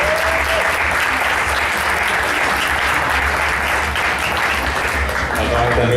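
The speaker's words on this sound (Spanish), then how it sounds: "demanar un fort aplaudiment per en Cisco i la Belén" Loud, close audience applause at a poetry night, a full continuous burst of clapping with some voices and cheering mixed in and a low hum underneath.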